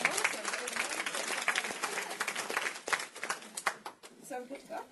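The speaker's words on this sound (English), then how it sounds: "Should we all give ourselves a round of applause for this being awesome?" A women's network meeting audience gives itself a round of applause, a busy burst of many hands clapping that fades after a few seconds into scattered claps as voices begin talking.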